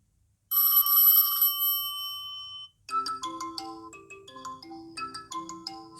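An Infinix Note 12 phone plays a ringtone through its speaker, opening with a bright sustained chime tone and then moving into a quick melodic run of plinking notes, clear and close with no talking.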